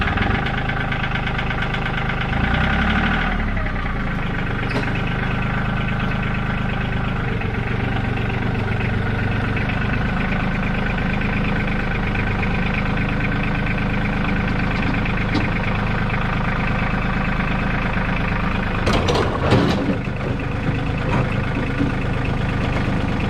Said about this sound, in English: So now I'm gonna use the tractor.